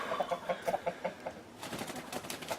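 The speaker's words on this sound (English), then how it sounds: "These are a Buckeye Cornish, dark Cornish cross, big old heavy meat bird that can actually reproduce" Buckeye and dark Cornish cross meat chickens cluck in a wet chicken house, a quick series of short rhythmic clucks up close, followed by softer rustling and scattered calls.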